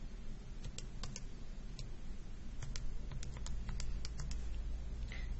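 Buttons on a calculator are pressed during trigonometry work: about a dozen light, crisp clicks come in an uneven sequence over a steady low background hum, with no talk.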